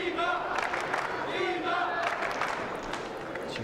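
Crowd of German fans cheering and chanting for Dimitrij Ovtcharov at a 2012 European Top 12 table tennis semifinal against Chen Weixing, a loud sustained roar of voices with rising shouts throughout.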